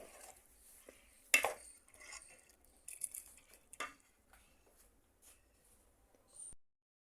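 A spoon knocks and scrapes against a pot as salt is stirred into a sabudana mixture, giving scattered soft clinks and a few sharper taps close by.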